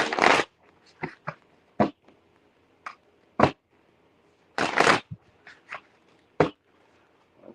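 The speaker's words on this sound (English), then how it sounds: "I'm just doing a little shuffling." Short crisp bursts of cards being shuffled and riffled, a dozen or so quick rustles at irregular intervals with quiet gaps between, close by.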